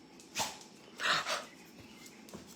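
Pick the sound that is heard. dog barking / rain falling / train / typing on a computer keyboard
dog barking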